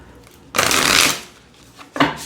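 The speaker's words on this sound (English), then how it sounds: "So if riffle shuffle's fine, overhand shuffle's fine." A new Broken Mirror Oracle card deck is shuffled close up in two quick bursts: a longer crisp riffle of about half a second, then a shorter flurry after a brief pause.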